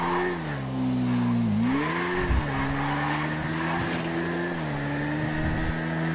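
A Kawasaki Z-1000 motorcycle engine drones steadily while riding in GTA roleplay, the pitch dipping and rising with throttle changes, with faint tire skids and no speech.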